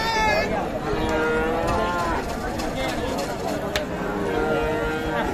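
A cow moos loudly and at length at a busy cattle market, a drawn-out close call over constant crowd chatter and people talking nearby.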